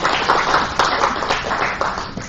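Warm applause from a church service audience for a musician, a steady wash of many hands clapping with scattered sharper claps, moderately loud and continuous throughout.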